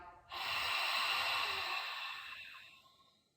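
An instructor exhales during a pelvic tilt: one long, close, breathy rush of air that swells quickly and slowly fades over a few seconds, with no talking.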